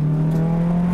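A Honda Civic EG6 engine at a race circuit drones loud and steady at high revs for a moment, one sustained close tone with no voices.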